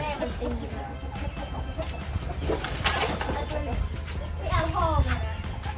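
Chickens cluck and squawk in agitated bursts while being caught, with wings flapping nearby and people talking throughout.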